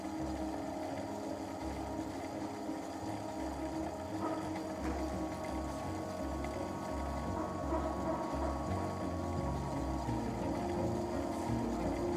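Ring spinning machine spinning cotton yarn in a mill, a steady dense mechanical whir and hum with a continuous low drone that holds unchanged throughout, no voices.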